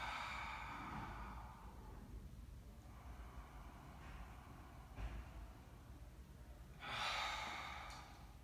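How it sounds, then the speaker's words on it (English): Deep exhalations during a guided breathing and stretching exercise, soft airy breaths rising and falling over steady low background noise, with a stronger, louder breath near the end. "Exhale and completely relax."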